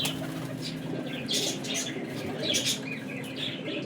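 Pigeons in a dealer's flock flutter and flap their wings close by in bursts, with soft cooing and a few chirps mixed into steady background noise.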